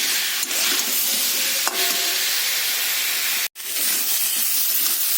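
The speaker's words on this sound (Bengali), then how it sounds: "এবার এইগুলো দিয়ে আমি খুব ভালো করে আর একবার কষে নেব।" Jackfruit curry with potatoes sautéing in a pan, a steady close sizzle and hiss with a few soft stirring scrapes, briefly cut out once partway through.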